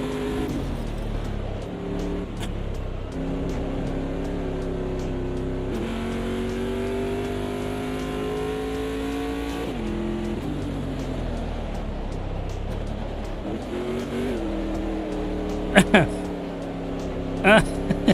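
Off-road trophy truck engine in the racing game AMS2, revving and shifting through gears with rising and falling pitch, loud and close, with someone talking over it throughout.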